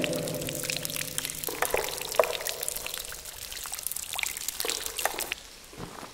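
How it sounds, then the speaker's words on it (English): Water leaking and dripping inside an abandoned railway tunnel, irregular small drips and trickles echoing faintly over a low, hollow background rumble. "You can probably hear it dripping."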